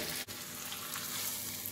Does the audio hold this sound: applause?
no